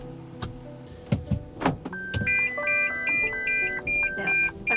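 A new car's proximity warning beeps repeatedly while it edges out of a tight parking spot, a steady run of close, loud electronic tones over a low engine hum.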